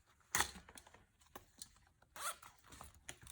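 A few short, scratchy pulls of a zipper on a planner's pocket, one sharp burst near the start and another a couple of seconds later, close and fairly quiet with small handling noises between.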